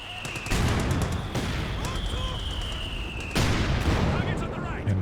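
Mortar fire and battle noise in Company of Heroes 2, with dull booming impacts and gunfire rumbling under a continuous high tone, heavy bursts at the start and again later.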